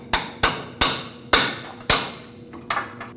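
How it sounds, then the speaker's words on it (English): A hammer taps a pry bar set against a metal bellows boot clamp on the steering rack of a 1998-2011 Ford Ranger, giving five or six sharp, close metallic strikes at uneven intervals, the last ones lighter. "and just tap it till it breaks off"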